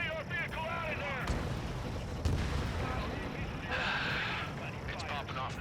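Anti-air guns fire in the video game Ace Combat 7, a rumbling stream of booming bursts running under near-constant radio voices and a whining tone.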